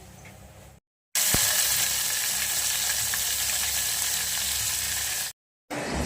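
Butter heats in a pan to make ghee, giving off a steady, even sizzle and hiss that runs for several seconds between two brief silent gaps.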